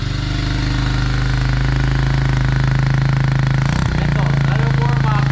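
A mini ice dirt bike engine idles a little high, a steady, loud, close chugging drone that holds through the whole stretch with one brief dip near the end.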